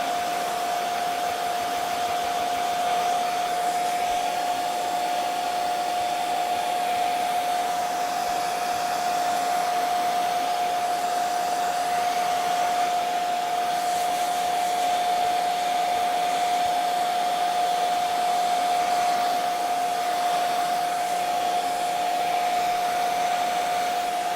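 A hair dryer blows steadily and loudly on watercolor paper, a constant whirring roar with a sharp motor whine that continues without a break from start to finish.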